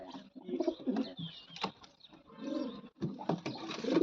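Fancy pigeons, including pure black birds and a feather-footed variety with purple feet, give low, rolling coos in bursts across a loft, close and moderately loud, with a faint chirp or two among them.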